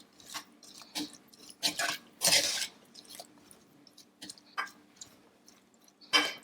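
A spoon stirs fresh blueberries in a Teflon pan, giving soft intermittent clicks, squishes and scrapes at irregular intervals over a faint low hum, close and fairly quiet.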